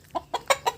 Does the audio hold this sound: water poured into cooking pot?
no